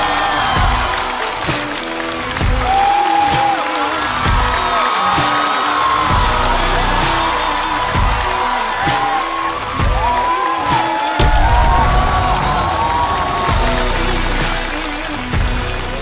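A large studio audience at a Chinese stand-up comedy show applauds and cheers loudly and continuously, with whoops and yells rising over dense clapping throughout.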